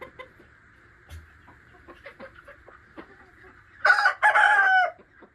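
A rooster crows outside, faint and distant at first with scattered clucks over a steady hum, then a loud, clear crow of about a second near the end, with no one talking.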